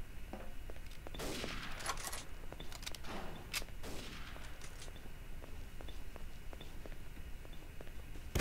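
MP40 submachine gun fire in a German-themed online shooter game sounds as faint, scattered bursts and single shots, somewhat distant and low in level, with no talking.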